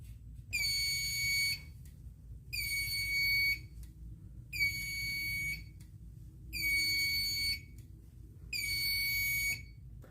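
A fire alarm panel in drill mode, its piezo sounder taped to muffle it, gives five long electronic beeps in a steady on-off pattern, each about a second long with equal gaps, over a low background hum.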